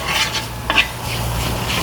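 Onions and spices sautéing in a pan for crab rasam, a continuous close sizzle with a brief scraping stir near the middle over a low steady hum.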